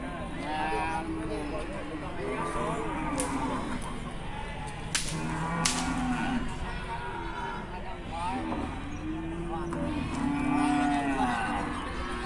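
Javanese cattle lowing at the Wage Bumiayu livestock market in the morning, several drawn-out moos from nearby animals amid crowd chatter and people talking.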